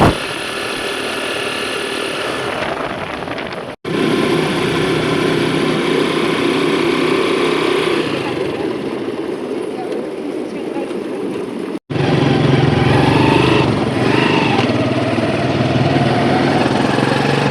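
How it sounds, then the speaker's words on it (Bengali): A motorcycle rides along the Marine Drive seaside road near Inani Beach in Cox's Bazar, its steady engine drone mixed with heavy wind rush throughout, briefly cut twice. "দেখেন আমরা বাইক উঠেছি আর অনেক অনেক বাতাস আর পাশে সমুদ্র"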